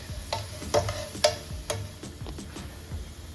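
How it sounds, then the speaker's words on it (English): Vegetables sauté in butter in a pan while they release their water, giving a soft, steady sizzle broken by several sharp clicks and scrapes of stirring. "butter में saute करेंगे जब तक ये पानी अभी रिलीज करेगा"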